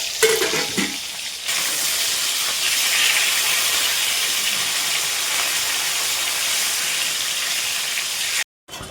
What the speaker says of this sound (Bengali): এখানে মাছ ভাজা চাপিয়ে দিয়েছি